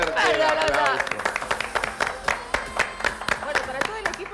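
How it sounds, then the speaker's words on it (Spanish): A studio audience on a morning television show applauds, with sharp, scattered claps repeating steadily for several seconds at moderate loudness, under a voice speaking over the start. "¡Fuertes aplausos! ¡Fuertes aplausos!"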